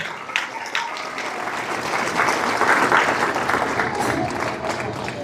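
A church congregation claps its hands loudly during a worship service, strong continuous clapping that swells in the middle and holds steady, with faint voices mixed underneath.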